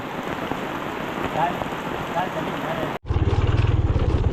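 Steady rain falls with a dense, even hiss for about three seconds, then cuts abruptly to a lower, rumbling patter.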